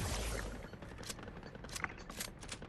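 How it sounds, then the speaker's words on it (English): Sharp-tooth shotgun fire in a video game: a dense, continuous clatter of overlapping shots and impacts, steady and fairly loud, with a few sharper cracks standing out. "it's the sharp-tooth shotgun fire rate is rubbish"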